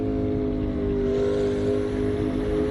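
Car engine in the Assetto Corsa racing game droning at sustained high revs, a loud, steady buzzing tone with strong harmonics and no gear changes.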